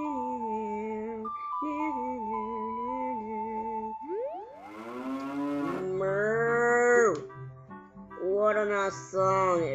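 Cows on Lon Lon Ranch in Zelda: Ocarina of Time let out several long, drawn-out moos, the first two steady and level, then a rising bellow and a final moo, over a soft game backdrop.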